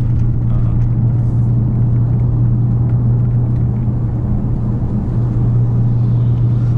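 A manual-transmission car cruises along a road, giving a steady low engine hum and broadband road rumble at constant loudness, with no voices.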